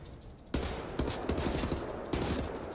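Rapid bursts of gunfire in the video game Wolfenstein: The New Order, several sharp loud volleys in quick succession, fairly close and without talk over them.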